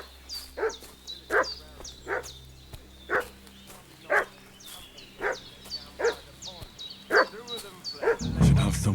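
Repeated dog barking in the medieval village game Kingdom Come: Deliverance 2, a steady series of sharp barks about every half second to a second, moderately close, ending in a louder burst of noise.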